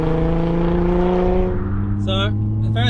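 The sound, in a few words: Nissan R35 GT-R 3.8 litre twin turbo V6 VR38 engine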